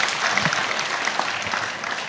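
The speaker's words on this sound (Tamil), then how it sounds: "ஒரு பெரிய கைத்தட்டல் கொடுத்து தந்தையர்களை உற்சாகப்படுத்துவோம்." Applause for the priests at a church festival in Kallikulam, a steady dense clapping from a crowd that fills the whole moment without any voices.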